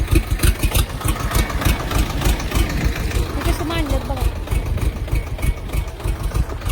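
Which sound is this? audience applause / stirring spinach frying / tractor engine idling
tractor engine idling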